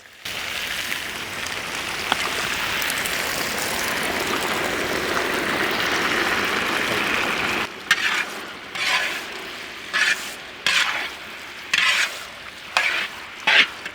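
Prepared sweet and sour sauce stir-frying with onion petals, green chilies and bell peppers in hot oil: a loud steady sizzle that drops off into bursts of scraping and stirring.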